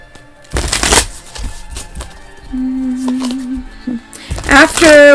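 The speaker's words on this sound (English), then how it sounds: "let's finish shuffling." Tarot cards are shuffled by hand in quick riffling bursts at the start, followed by a pause with faint tones and a chirp before more card handling near the end.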